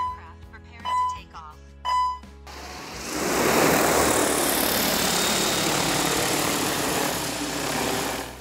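A big drone fitted with a winch hovers outdoors near a pond, its propellers droning in a loud, steady, broadband whir that swells up after some brief talking at the start.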